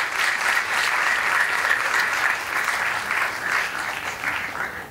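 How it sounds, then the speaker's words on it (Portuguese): Audience applause at a hypnosis show, steady dense clapping from a crowd that holds evenly throughout and tapers slightly at the end, with no talking over it. "Salve de palmas para os nossos astros."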